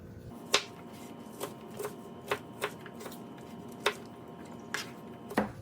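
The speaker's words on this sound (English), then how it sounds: "I'm not going to cut these really super fine, because I do like chunky vegetables and whatnot in my chili" A knife chops vegetables on a cutting board into chunky pieces for a hearty homestyle chili, giving sharp, separate knocks at an uneven pace, about eight in all, fairly faint against a quiet room.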